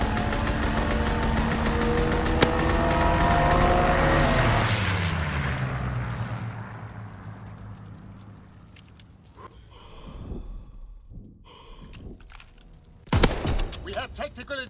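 Strafing run in the Call of Duty WWII video game: a loud roar of aircraft gunfire and engine sweeping past and fading away, followed by scattered distant shots and a late burst, with voices talking over it.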